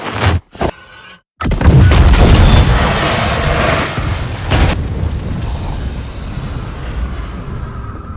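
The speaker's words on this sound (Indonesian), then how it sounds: "melemparkannya ke saluran oksigen dan membuat tempat itu meledak." A loud explosion in the film Deadpool (2016), where a lit lighter is thrown into an oxygen line: a sharp burst after brief silences that settles into a long rumbling roar and debris crackle.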